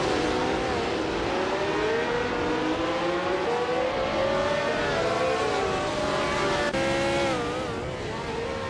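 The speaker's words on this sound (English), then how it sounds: "Toadette TV is driving the Eagle Mark 1T1G, starting from 6th and currently in 7th place." A classic F1 race car, the Eagle Mark 1T1G, howls around the Circuit du Var in a racing video game. The engine whine is continuous and close, its pitch rising and falling through gear changes.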